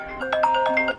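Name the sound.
phone alarm ringing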